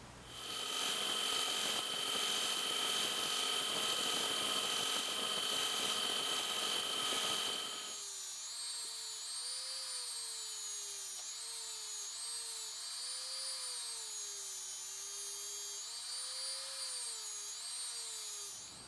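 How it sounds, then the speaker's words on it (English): Abrasive bristle wheels polishing the ferrule of a flea market screwdriver, first a loud broadband grinding hiss, then a steadier whirring hum with a wavering tone as the metal is worked against the spinning wheel, no talking. "I went through all of the grits on these abrasive bristle wheels."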